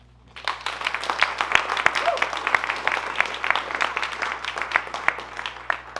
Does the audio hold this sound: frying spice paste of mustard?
no